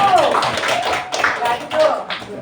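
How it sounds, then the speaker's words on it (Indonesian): A few students clap for a group after a class presentation in an Indonesian university classroom, producing loose, irregular claps close by with voices mixed in. "Tepuk tangan untuk kelompok 1."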